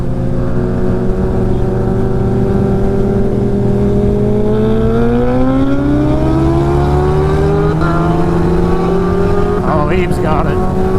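A Kawasaki Ninja H2 with over 300 hp and a turbocharged Suzuki Hayabusa with over 400 hp race on a street. Their engines make a loud, continuous drone that climbs steadily in pitch as the bikes accelerate hard.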